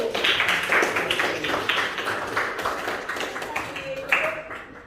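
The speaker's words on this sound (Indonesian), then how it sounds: "kita beri tepuk tangan untuk kelompok 1" Classroom applause for a student group after a presentation at a junior high school, scattered clapping from a small group of hands over several seconds, mixed with talking.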